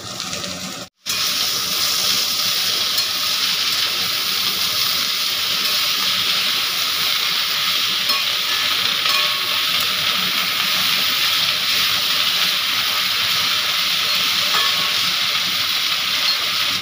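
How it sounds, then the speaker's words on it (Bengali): Kulekhara greens fry in hot oil in a pan alongside fried brinjal and slit green chillies, giving a loud, steady sizzling hiss that runs unbroken apart from a momentary drop near the start. "শাকটা আমার একটু নাড়াচাড়া করা হয়ে গিয়েছে। শাকটা ভালো করে ভাজা হয়ে এসেছে।"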